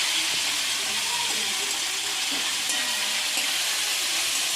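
Chicken pieces for Bengali chilli chicken fry in hot oil, a loud, continuous dense sizzle close to the pan with faint stirring movements underneath and no speech.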